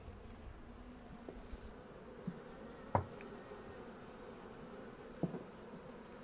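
Honeybees hum softly in an opened hive, a low steady drone with a few brief louder passes as single bees fly near, quiet and without voices.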